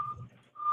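Steady electronic reversing beeps from a tow truck, a high tone pulsing on and off with a pause between bursts, over low engine rumble.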